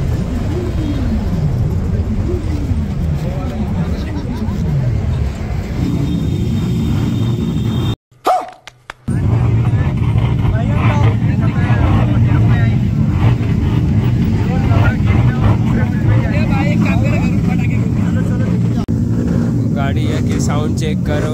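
Motorcycles idle and rev in a loud, steady engine drone during a sound check on a group Sunday ride in Nagpur, with rising and falling revs early on, a brief cut midway, and voices talking over the noise.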